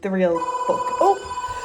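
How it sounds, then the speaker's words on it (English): A phone rings with a steady electronic tone in a room, sounding through and after a woman's speech, fairly close and clear. "that's my phone"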